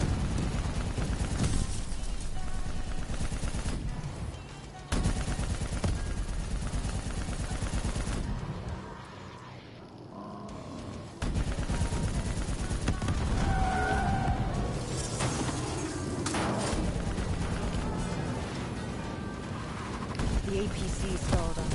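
Gunfire in Call of Duty: Black Ops 3 Zombies, the Nightmares zombie campaign, with continuous rapid shots and game noise that drop out briefly partway through before resuming, mixed with speech.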